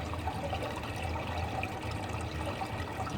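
Clear water rushes steadily through a freshly unclogged drain, a continuous close gurgling flow with no voices over it.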